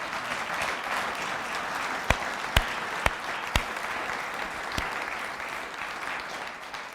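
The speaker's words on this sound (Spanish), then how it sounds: "Dale un aplauso a nuestro Salvador." Sustained applause from a congregation during a Sunday church service fills the whole clip evenly, with several sharper individual claps standing out along the way.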